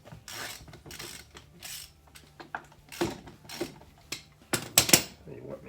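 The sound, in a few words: loosening lug nuts with a 4-way lug wrench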